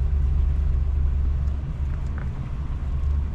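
RAM 2500 Power Wagon with 4WD grinding up an off-road climb, its engine a steady low rumble with drivetrain strain and no voices over it.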